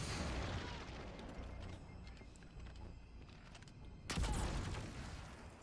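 A rocket launcher fires in the sci-fi shooter Destiny 2, one sudden loud blast near the end that rises out of a low rumbling game backdrop.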